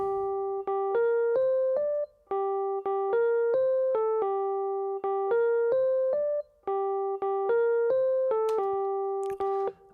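Bright synth keyboard riff, played alone as a repeating syncopated pattern of clipped stabs, four looping phrases with brief gaps, loud and up close, ending on a short noisy sweep.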